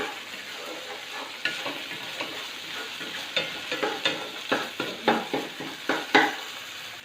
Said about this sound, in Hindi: आपने इसको काट काट के इसकी भुनाई जो है वो करनी है अच्छी तरह से